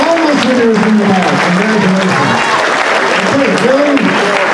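A crowd applauds young costume contest winners, steady clapping held under a voice that talks over it throughout.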